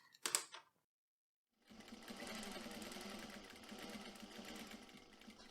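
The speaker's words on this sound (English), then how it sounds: "we're going to sew parallel to the edge" A sewing machine stitches straps parallel to their edge for a fastpack vest, first a brief burst, then a pause, then a steady, close, continuous run of stitching.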